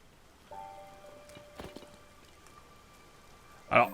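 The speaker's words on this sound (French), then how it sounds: "Pourquoi il pleut comme ça?" Rain falls in the video game Zelda Tears of the Kingdom as a soft, steady hiss beneath chiming game tones and a few light knocks, closing with a sudden loud hit.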